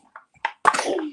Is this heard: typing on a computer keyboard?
no